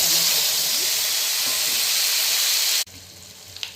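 Eggs frying in oil for an Andhra-style egg and drumstick curry, a loud steady sizzle and hiss that cuts off abruptly near the end, leaving quieter kitchen sounds.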